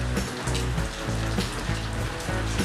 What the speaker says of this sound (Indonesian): Pasti kehujanan hujan kieu mah, brother.